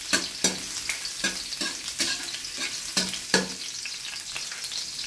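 Garlic fries in hot cooking oil for a mung bean dish, a continuous sizzle punctuated by about ten rhythmic scraping strokes of a spatula stirring the pan, close and moderately loud.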